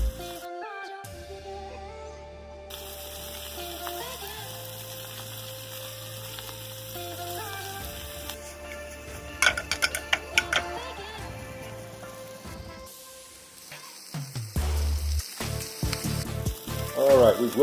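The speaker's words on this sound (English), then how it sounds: "now we're going to put a quick and hard sear on these Brussels sprouts" Brussels sprouts sear hard in a hot pan, a continuous sizzle partly masked by tonal background sound and a voice, with crackling bursts toward the end.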